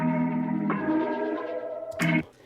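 Looped music sample from a song revamp beat, with sustained effected chords washed in thrown reverb, shifting once partway through and ending in a bright swell that cuts off into a reverb tail, heard alone.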